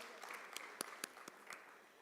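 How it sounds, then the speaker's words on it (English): Light, scattered applause at a conference as speakers make their way to the stage; a handful of distinct claps stand out over a soft background murmur, sparse and moderately distant. "Let's give them a round of applause as they come to the stage"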